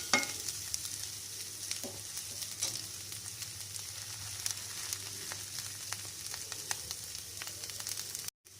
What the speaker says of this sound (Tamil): இந்த வெங்காயம் இந்த சூட்லேயே நல்லா வந்து வதங்கும்,